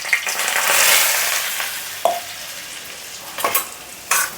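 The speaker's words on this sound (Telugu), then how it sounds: "ఈ ఉప్మా రవ్వ ఇప్పుడు బ్రౌన్ కలర్లో వచ్చే వరకు వేంపుకోవాలి." Upma rava (semolina) is dry-roasted and stirred in a kadai, giving soft scraping, rustling strokes with a faint sizzle and a few sharper scrapes of the spoon against the pan.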